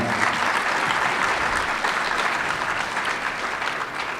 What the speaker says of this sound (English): Round of applause for him as well.